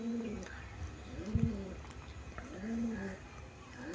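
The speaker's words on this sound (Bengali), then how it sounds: "খুবই ভালো পায়রা।" Pure white pigeons with blue beaks coo in clear, drawn-out rising and falling calls, a few at a time, close by over a soft background hum.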